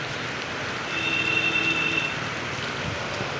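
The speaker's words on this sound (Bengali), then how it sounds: "আর মুষলধারে বৃষ্টি, মুষলধারে। পিছনে দেখতে পাচ্ছ প্রচণ্ড বৃষ্টি।" Heavy downpour of rain during a road journey, a steady broadband hiss of falling water that swells slightly in the middle and holds constant throughout, with no voices.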